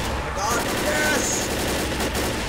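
Guns fire in Left 4 Dead in dense, rapid bursts, loud and close over a noisy, busy background, with a voice faintly mixed in.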